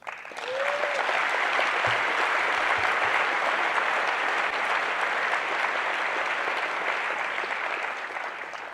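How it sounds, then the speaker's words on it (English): Warm, sustained applause from a large audience at an astronomy general assembly opening ceremony, dense, even clapping that holds steady for several seconds before easing slightly at the end. "I want everyone to give you a warm round of applause."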